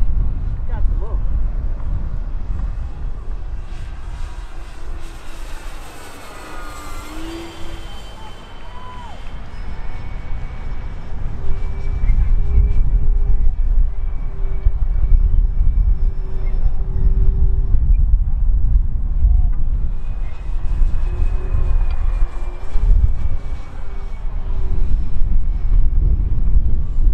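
An FMS 1700mm Tigercat F7F twin-engine RC warbird flies overhead, its steady engine drone rising and shifting in pitch as it passes, with wind noise and people talking throughout.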